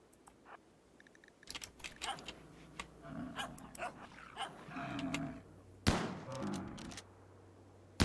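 Yorkshire terriers yap in short bursts among sharp shotgun blasts in the colony-management video game Rimworld, a busy scatter of clicks and pops over about eight seconds, with one louder crack near the end.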